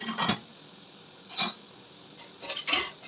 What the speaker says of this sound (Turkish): Şimdi e, bulaşıklarımı yerleştireyim.